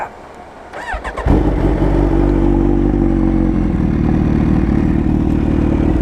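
A 2016 Kawasaki Ninja H2 motorcycle cranks briefly, then catches and roars to life close by, settling into a loud, steady, throbbing idle with slight throttle blips.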